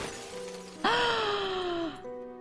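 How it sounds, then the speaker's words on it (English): A character's face shattering in a fantasy video game: a sudden bright crack followed by a sustained ringing, glassy tone that slides downward for about a second before cutting off, loud and alone over a low game ambience. "His face shatters and falls to the ground."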